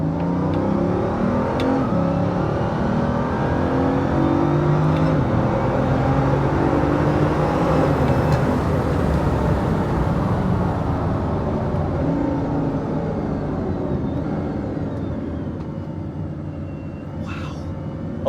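A Bugatti Veyron hypercar accelerates hard from inside the cabin, a loud, continuous engine roar that builds and surges for most of the run before easing off toward the end.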